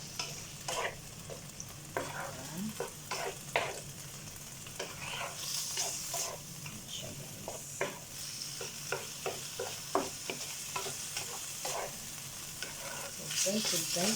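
Chicken breast frying in hot oil in a pan, a steady sizzle throughout with repeated scraping and stirring strokes from a utensil, fairly close and with no talking.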